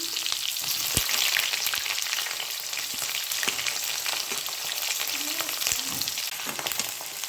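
Sliced onions frying in hot oil left over from fried potatoes, giving a steady close sizzle with occasional stirring knocks and scrapes against the pan.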